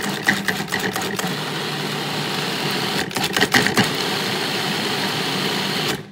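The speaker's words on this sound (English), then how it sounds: "I'm going to lock on the lid and I'm going to pulse a few times just to get the herbs chopped up" Food processor pulsing fresh herbs for pesto under a locked lid, a loud close whirring motor with short bursts of chopping rattle, running steadily before cutting off at the end.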